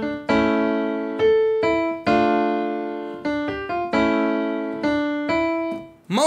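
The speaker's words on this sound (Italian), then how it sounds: "Si tratta chiaramente di un suono campanellinoso," Bell-like, slightly percussive synth melody for a trap beat, with struck chord notes that decay quickly in a steady sequence, clear and alone.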